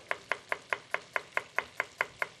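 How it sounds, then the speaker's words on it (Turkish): A knife finely chops an onion on a board in eleven crisp, evenly spaced taps, close and steady, with no speech over the rhythm. "minik minik doğruyorum"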